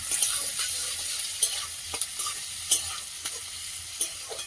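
Whole garlic cloves fry in a hot pan of oil while a utensil stirs them, a steady sizzle broken by several sharp scraping clicks, close and alone.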